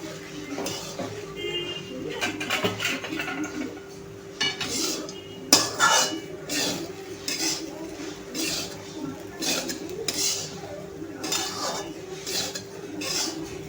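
Ground peanut powder mixed into sabudana khichdi in a metal pan, a steady run of spoon clinks and scrapes against the pan, close and continuous, with a faint low hum underneath.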